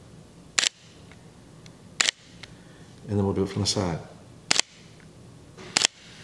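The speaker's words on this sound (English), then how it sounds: "So that's part of the shutter." Camera shutter from a Sony A7IV or Fuji X-H2S mirrorless body, four sharp, loud single clicks spaced a second or more apart, with someone speaking briefly between them.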